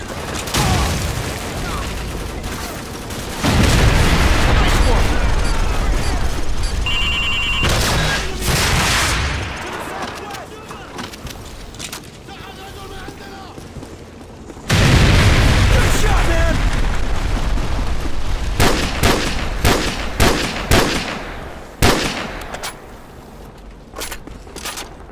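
Gunfire and explosions from Call of Duty 4: Modern Warfare: two long stretches of loud, dense fusillade with heavy booms, broken by a quieter lull, with sharp single shots and blasts near the end and shouted voices at times.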